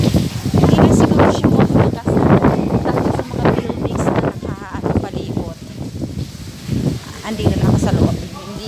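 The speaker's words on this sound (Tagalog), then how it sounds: "pero malakas din ang hangin." Strong Typhoon Wipha wind gusts buffet the microphone in Hong Kong, loud rumbling blasts rising and falling throughout as someone talks over them.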